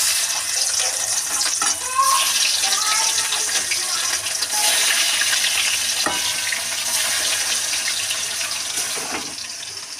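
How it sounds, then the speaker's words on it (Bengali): Fish fries in hot mustard oil in a wok, a steady loud sizzle that runs unbroken throughout, with a few faint clinks of stirring and no talk. "মাছ ভাজার জন্য কড়াইতে দিয়ে দেবো সর্ষের তেল। তেল গরম হয়ে গেছে,"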